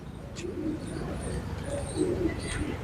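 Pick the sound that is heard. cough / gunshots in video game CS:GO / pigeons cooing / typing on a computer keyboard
pigeons cooing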